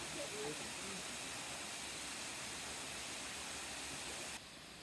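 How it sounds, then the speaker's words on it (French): A waterfall with two drops of 46 and 24 metres roars as a steady, broadband rush of falling water, loud and continuous throughout, easing slightly near the end with no talking. "Cette magnifique cascade comporte en fait 2 chutes, la première de 46 mètres et la suivante de 24 mètres."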